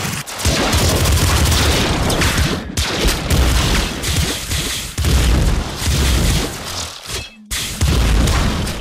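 A minigun enemy in Nuclear Throne unleashes loud, rapid streams of gunfire mixed with heavy booms, firing in sustained bursts broken by a couple of brief near-silent gaps.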